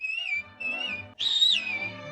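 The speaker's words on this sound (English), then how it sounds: "give a little whistle" A clear, close whistle of three sustained tones: two steady notes with short gaps, then a higher, brighter rising note.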